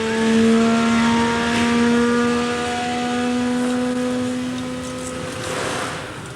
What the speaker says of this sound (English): some of them are going up in smoke as they test to destruction one of their turbo